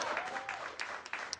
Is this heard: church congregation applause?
yes